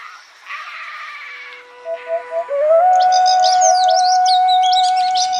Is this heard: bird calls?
yes